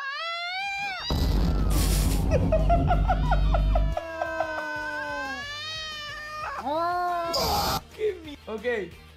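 A cat meows loudly and close in drawn-out, wavering cries with several short mews near the end, partly overlaid by a loud noisy burst and other sounds.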